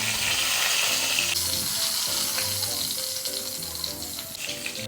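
Ground banana frying in ghee gives off a steady, close sizzle and hiss throughout, with faint clinks and scraping of a pan underneath.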